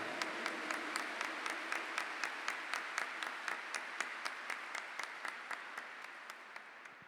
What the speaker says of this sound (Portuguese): Vamos aplaudir esse Deus tremendo.